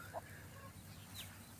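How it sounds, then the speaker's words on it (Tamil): Chickens foraging in the shade of a neem tree in a rural village, with a faint cluck and a distant bird call over quiet outdoor background noise. "இந்த கோழிங்கள்லாம் இந்த கோழி சத்தத்தோடு இருக்கும்போது இதுவே ஒரு தனி ஃபீலாக இருக்குது"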